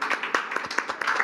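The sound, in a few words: audience applause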